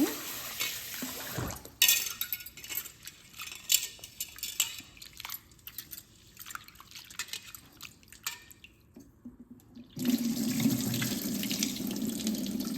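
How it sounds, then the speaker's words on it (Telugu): Water pours and splashes into a container in a kitchen while the batter for steamed aaviri kudumu is prepared, with intermittent trickles and clinks, then a steady louder stream near the end. "నేను ఇప్పుడు నీళ్ళు సరిపాను పోస్తానండి"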